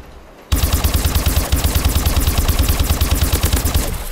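OHM gun in Call of Duty: Advanced Warfare firing a fast, sustained automatic burst, loud and close with an even rapid rhythm lasting several seconds after a brief quiet start.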